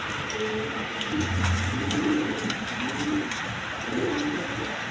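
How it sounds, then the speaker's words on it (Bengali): A pair of large Andalusian-coloured house pigeons coos in low, repeated throaty rolls, steady and fairly close against a constant noisy background. "এক পেয়ার অ্যান্ডোলেশন কালার হাউস পিজন কবুতর"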